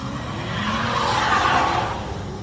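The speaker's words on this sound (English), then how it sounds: "You're in a fucking parking lot and you're driving like a fucking ass." A car driving recklessly in a parking lot, a sustained tire squeal and engine noise that swells and fades over a couple of seconds, moderately loud with no talking.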